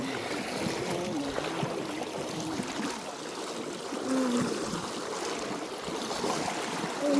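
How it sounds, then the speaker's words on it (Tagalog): Continuous broadband rush of a strong river current, steady and fairly close, with faint intermittent tonal sounds over it. "malakas yung agos guys."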